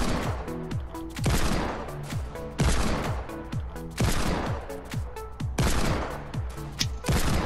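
Gunfire in Fortnite, repeated bursts of rapid shots in regular volleys roughly every second and a half, loud and close, with short gaps between bursts.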